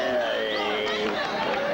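A basketball game crowd roars in a packed arena, a loud, steady wash of cheering and chatter with a commentator's voice talking over it.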